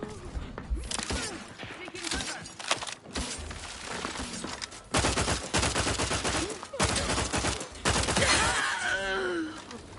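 Bursts of rapid gunfire cut down unarmed NPCs in The Outer Worlds 2, loud volleys in several clusters with brief pauses, mixed with groans and gasps from the targets.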